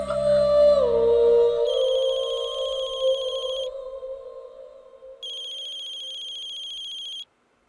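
An electronic phone ringtone warbles in two bursts separated by a pause, loud and close, after a falling tonal chime.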